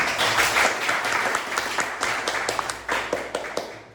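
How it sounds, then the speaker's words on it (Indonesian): Applause for a student named Arlan during a classroom teaching lesson, a steady patter of many hands with sharp individual claps standing out, fairly close and loud, thinning slightly toward the end. "tepuk tangan untuk Arlan"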